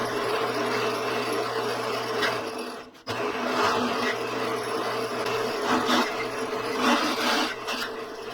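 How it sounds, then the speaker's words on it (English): A drill bores a pilot hole through the metal shell of a gas forge being rebuilt, a steady loud grinding whir that briefly stops near the middle before resuming. "We're going to pre-drill this, and then we're going to take a step down bit and open it up"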